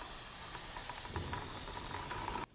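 Parts cleaner is sprayed from an aerosol can onto the rear brake parts of a 2007-13 Toyota Tundra. A steady, close hiss runs for over two seconds and then cuts off abruptly.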